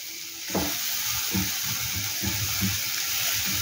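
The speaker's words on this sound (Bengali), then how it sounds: "এবার এটা একটু ভাজা ভাজা হোক।" Stuffed ash gourd fries in a pan with a steady close sizzle, broken by a few soft scraping stirs spaced about a second apart, with no voices.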